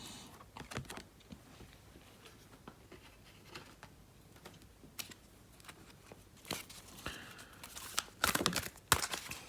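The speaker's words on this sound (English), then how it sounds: "I just started shuffling and that just flipped over in my hands." Soft rapid riffling and clicking of cards being shuffled, close and quiet, with a louder flurry of card snaps near the end.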